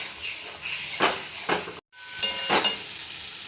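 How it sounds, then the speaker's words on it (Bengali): Potatoes sautéed with spices in a pan for a vegetarian jackfruit kofta curry: a steady close sizzle broken by stirring scrapes, a brief silent gap, then more sizzling and scraping. "মশলার সঙ্গে আলুটাকেও একটু কষে নিচ্ছি"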